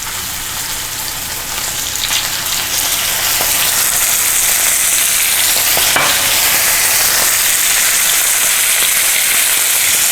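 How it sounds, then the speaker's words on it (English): Seasoned meat sears in a hot pan with a loud, dense, rain-like sizzle that swells over the first few seconds and then holds steady, with a single sharper crackle partway through and no talking. "I'm just going to throw them in the pan. And you're going to want to let them sear on both sides."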